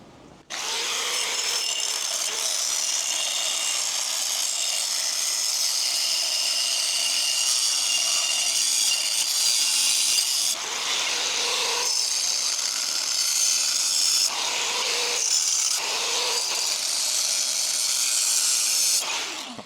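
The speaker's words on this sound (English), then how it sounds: "let's try some angle grinding" Angle grinder with a 5-inch, 3 mm cutting disc, powered by a Bluetti AC70 battery, cutting steadily in loud, close, harsh stretches, briefly easing off and biting again a few times, with no voices.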